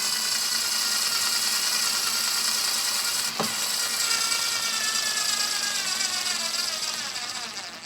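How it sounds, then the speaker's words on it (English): A Black & Decker KC9042 cordless powered screwdriver drives a screw into a wooden bench leg, giving a steady whirring motor whine that runs continuously for several seconds, with a brief knock midway before the motor starts to slow and fade. "see if we can stick it into the leg of the bench here"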